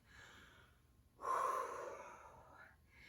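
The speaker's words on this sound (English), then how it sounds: "Do a couple inhales, exhales with me." One deep, audible breath after a total-body workout, a quiet lead-in followed by a stronger, breathy exhale up close, faint overall and with no talk.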